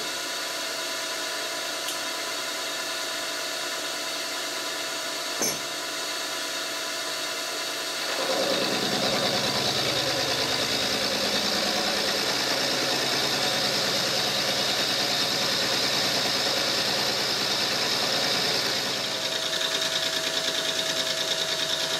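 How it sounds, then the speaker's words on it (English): A milling machine spins a T-slot cutter at 580 RPM, its steady mechanical whine and hum rising sharply as the cut begins and holding on as a loud, continuous grind with no talk. "Running the T-slot cutter at 580 RPM."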